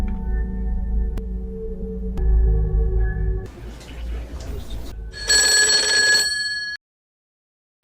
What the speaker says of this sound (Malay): Semasa telefon berdering